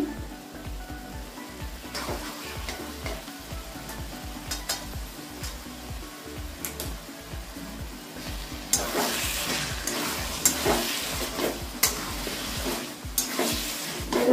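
Taro leaves (kochu shak) cooking in a pan with a spoonful of ghee, for a Bengali vegetarian dish: a steady frying sizzle with scraping stirs, growing louder and brighter partway through, no talking.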